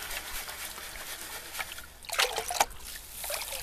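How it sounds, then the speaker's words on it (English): Water trickles and splashes as gold panning material is washed into a plastic tote at home, a steady close wash with a few louder splashy bursts midway. "I'm just going to wash this into a tote"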